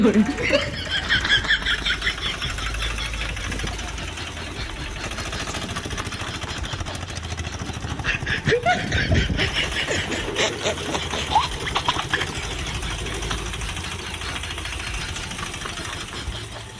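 A chugging engine on a homemade Bullet motorcycle and tractor hybrid runs steadily throughout with a rhythmic mechanical rattle, fairly loud and close, while voices talk over it.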